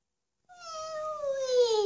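A voice imitates a cat's meow: one drawn-out, near, moderately loud meow with a falling pitch, starting after a brief silence and given as an answer in a sound game.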